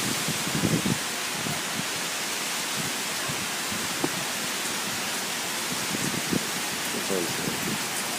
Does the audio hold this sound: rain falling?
yes